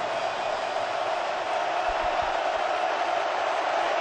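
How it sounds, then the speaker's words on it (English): A football stadium crowd at a Georgia Bulldogs vs Missouri Tigers game gives a broad, sustained roar of cheering that stays loud and even throughout, distant and unbroken. "Crowd comes to life"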